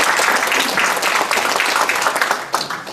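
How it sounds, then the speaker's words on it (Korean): Applause from an audience at an awards event honouring an environment and safety prize winner, a steady dense patter of clapping that holds for the whole stretch before easing slightly near the end. "다시 한번 박수 부탁드리겠습니다."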